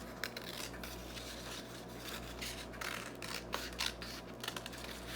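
Scissors cut paper during a pre-kindergarten lesson, giving quiet, close snips and rustling scrapes at irregular intervals over a soft, steady background hum, with no speech.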